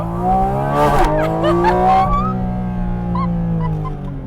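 A Porsche Cayman GT4 RS brakes hard from speed, its engine note dropping through steady harmonic tones while brief tire squeal and a sharp burst of noise break in near the middle, heard from inside the car.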